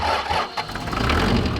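An old van's diesel engine cranks and catches for a moment, a close, loud rough rumble that sputters unevenly through the short burst.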